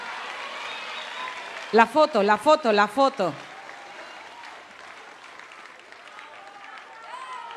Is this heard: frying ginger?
no